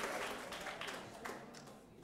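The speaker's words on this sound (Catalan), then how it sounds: "I el vostre aplaudiment, clar que sí." A studio audience at a Catalan spelling game show applauds, a dense, fairly faint patter of clapping that fades slightly over two seconds.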